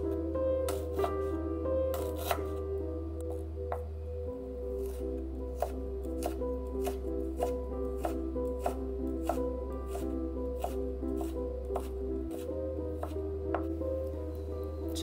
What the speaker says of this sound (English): Finally, shred our ginger.